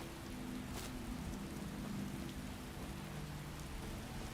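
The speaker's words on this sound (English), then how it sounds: "Now it's kind of hard to see in the rain." Steady rain falls in the Skyrim game world, a dense continuous hiss that holds at an even level throughout, with a faint low rumble underneath and no voices.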